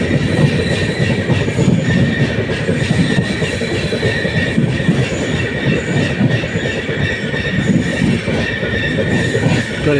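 Train pulling into Dindigul Junction in Tamil Nadu, with a steady, loud rumble of rolling railcars and faint wheel clatter filling the whole stretch, no voices.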